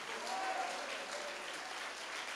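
Church congregation applauding in praise at a worship service, a steady, fairly quiet wash of clapping hands that holds evenly throughout.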